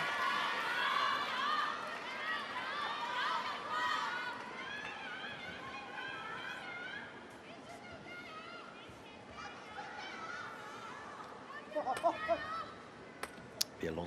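Arena crowd at a table tennis semifinal, Lin Shidong against Liang Jingkun at the Asian Cup, roaring and cheering loudly and steadily, gradually thinning into scattered chatter with a few sharp claps or knocks near the end.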